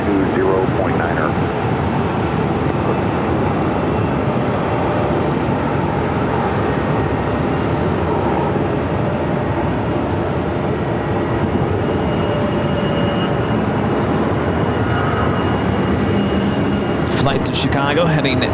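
Airliner at Phoenix Sky Harbor taking off on runway 25 right, a loud continuous roar of jet engines that holds steady throughout, with a voice talking over it.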